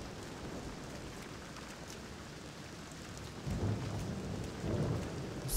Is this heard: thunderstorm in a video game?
yes